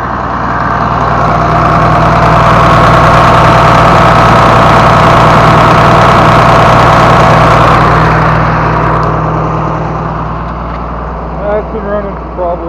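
Tractor engine idling steadily with a loud, low, continuous rumble and hum, close up and unbroken, easing slightly toward the end with a few faint clanks.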